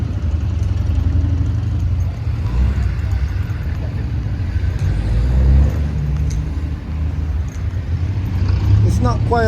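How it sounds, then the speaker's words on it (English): Town traffic in Margate with buses passing through, a continuous low rumble of engines and vehicles moving along the street, fairly close and loud throughout. "There's a lot of traffic movement. Traffic's going about. Daily buses going through."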